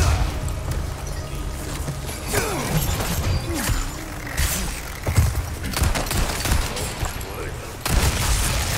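Shotgun fire in Resident Evil 4 Remake on Professional mode, heard as loud booming blasts and clattering gunfire over continuous game noise, with a person talking throughout.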